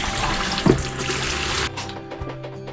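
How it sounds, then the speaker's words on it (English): Water rushes into an RV toilet and flushes down into the holding tanks, a steady close gush that cuts to a quieter trickle partway through. "I've used a little bit of the water to flush the toilet and all the gunk down into our tanks"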